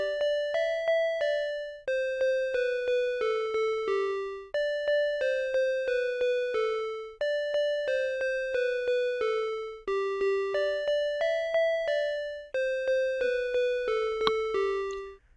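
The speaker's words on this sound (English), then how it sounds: "we're going to be using Sonic Pi to code ourselves the children's nursery rhyme" Twinkle Twinkle Little Star plays as a synthesized melody coded in Sonic Pi, clean bell-like tones in evenly spaced notes grouped into phrases with short pauses, with no voices.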